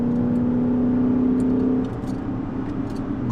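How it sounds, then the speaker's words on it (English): Dodge Challenger R/T V8 with universal mufflers and X-pipe, heard from inside the car with the exhaust valves open: a steady, loud, deep engine drone that eases off slightly partway through. "inside the Challenger right now, with the valves open, you get a nice, deep Mopar aggressive sound"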